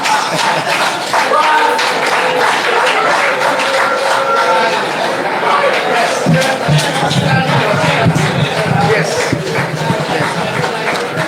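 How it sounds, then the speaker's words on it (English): Loud crowd applause and cheering at a class reunion evening reception, a continuous roar of clapping with shouts and voices mixed in throughout. "A round of applause."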